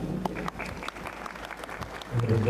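An audience applauds at a Blue World City event during a speech. The clapping is dense and sustained and swells louder toward the end, with a voice speaking over it.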